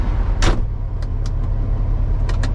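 The door of an owner-operator's semi truck, in need of grease, gives a short squeak followed by several quick creaks and clunks over a steady idling engine rumble.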